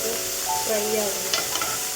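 Food frying in a pan gives a steady, close sizzle throughout, with a few faint clinks near the end.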